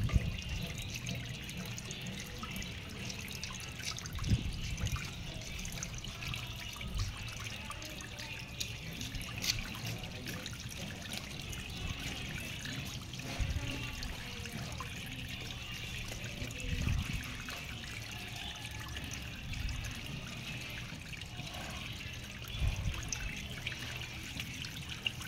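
Water drains out of an Azahi air cooler tank in a soft, continuous trickle with occasional drips, faint and close, running steadily for about 25 seconds without talking.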